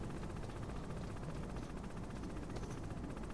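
A helicopter hovers in the Metal Gear Solid video game, a dense and steady rotor roar that stays close and constant throughout, with no talking.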